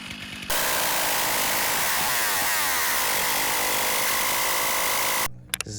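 A 500i chainsaw with its cover removed revs at full throttle in a loud, sustained, harsh whine lasting several seconds, then cuts off abruptly near the end.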